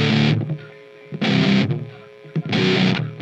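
Heavily distorted electric guitar plays the main riff of a song, loud bursts of chugging chords repeating in a steady rhythm with short gaps of lower ringing notes between them.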